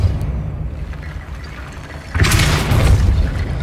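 A Depulsor spell cast in Hogwarts Legacy: low rumbling ambience, then a single heavy, whooshing boom that lingers for over a second.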